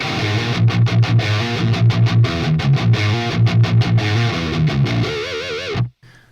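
Electric guitar through a clean Marshall JCM800 2203 tube amp with no overdrive, strummed chords in a steady rhythm with slight grit, ringing out before stopping abruptly; no voices.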